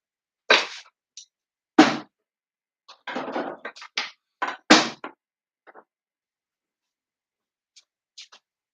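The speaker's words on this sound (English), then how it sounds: "I just gotta stir this." Food being stirred in a pot: close, irregular scraping strokes in short bursts, with quiet gaps and a few faint taps toward the end.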